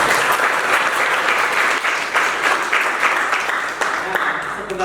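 A crowd applauds loudly and continuously, dense clapping from many hands holding steady for several seconds before easing slightly at the end.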